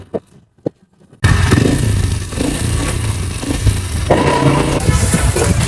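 A motorbike rides in close and loud after a near-silent start, its engine rumbling and clattering as it pulls into a college compound in India to park.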